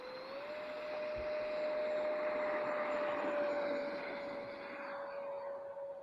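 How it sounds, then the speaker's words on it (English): A radio-controlled model jet in flight over a rough grass field gives off a steady, sustained turbine whine with a constant high tone over broad airy roar, swelling slightly mid-pass and then easing, with no talk. "This looks like such a nice flying jet."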